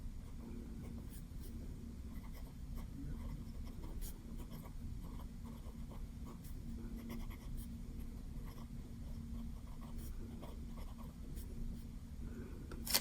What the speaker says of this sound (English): I am going to do a little writing sample